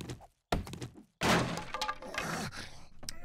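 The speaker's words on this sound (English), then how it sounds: "I just destroyed that backpack." In the survival game 7 Days to Die, a backpack is smashed apart with a few heavy thunks and cracking impacts, separated by brief silences and followed by a longer crunching breakup.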